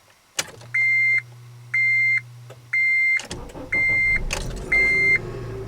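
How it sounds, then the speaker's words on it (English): Honda Element starting after a battery replacement: a series of regular door-chime beeps, then the engine cranks and catches into a steady idle under the continuing beeps. "So let's put the key in the ignition and see if she starts up."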